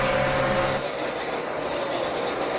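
Onboard a NASCAR Nationwide stock car racing at Charlotte in 2010, the engine roars loud and close with a sustained droning tone that dips slightly and then holds as the car runs at speed.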